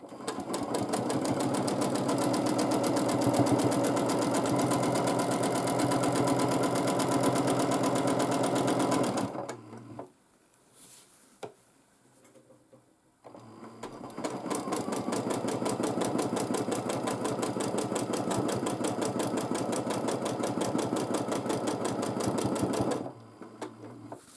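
A sewing machine stitches free motion quilting in a long steady run of rapid, even needle strokes, stops briefly with a few isolated clicks and a short spurt, then resumes a second sustained run before stopping again.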